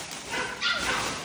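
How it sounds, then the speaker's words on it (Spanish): Dogs bark at home in short yapping bursts, two or three close, loud barks with a whimpering edge. "¡Callen esos perros!"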